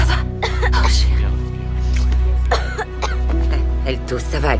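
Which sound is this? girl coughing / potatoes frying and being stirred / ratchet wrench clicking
girl coughing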